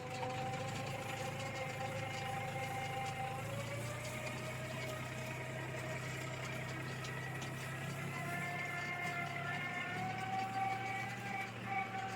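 A tractor engine idles at a steady, even pace with a low throbbing drone and tonal hum, moderately quiet and unbroken throughout.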